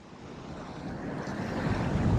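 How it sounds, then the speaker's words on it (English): Big open-sea waves surging off Green Island, Antigua, with a strong breeze buffeting the microphone; a continuous broadband roar of surf and wind that slowly builds louder, with no voices. "That's where all the big seas and wind come from."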